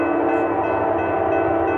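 A westbound BNSF freight train approaching, heard as a loud, steady, dense rumble with sustained horn-like tones running the whole time and no voices.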